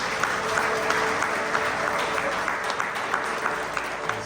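Church congregation applauding at a Nazarene conference, a close, continuous burst of many hands clapping with sharp individual claps standing out over the crowd noise.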